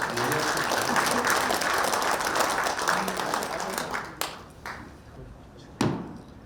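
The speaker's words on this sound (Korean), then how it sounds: "힘찬 박수 부탁드립니다" Loud, dense applause from an audience at a high school centennial commemoration event, sustained for several seconds before thinning into a few scattered claps and sharp knocks.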